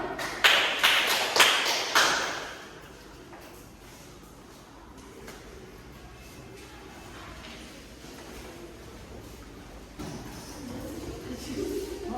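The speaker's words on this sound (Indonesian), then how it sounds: "Beri aplaus untuk kelompok 1" Classroom applause for a student presentation group, a short burst of several quick claps that fades within about two seconds, followed by quieter room noise and scattered taps.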